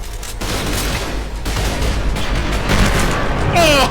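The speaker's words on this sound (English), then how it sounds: "We blew up that one enemy there." A grenade explosion blows up an enemy in the shooter game Trepang2, heard as a loud, dense burst of booms and gunfire rattling continuously for a few seconds.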